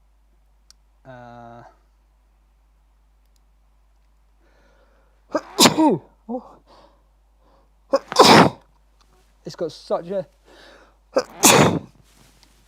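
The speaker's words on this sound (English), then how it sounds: "It made me sneeze." Two loud, sharp sneezes burst out close by, with someone speaking briefly between them.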